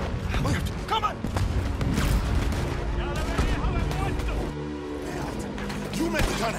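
A ship-mounted cannon fires during a battle in the video game Red Dead Redemption 2, with sharp blasts and mechanical creaks among shouting voices and general combat din.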